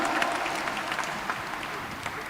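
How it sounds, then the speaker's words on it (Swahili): Church youth congregation at a Kikuyu-language service in Thika town clapping together, a dense, moderately distant patter of many hands sustained throughout. "Pigia Yesu makofi kwa sababu amekuwa mwema."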